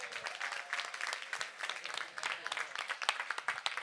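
An audience at the opening ceremony of a Relay for Life event in Rixensart applauds, a brief dense burst of clapping from a crowd that stays fairly even throughout.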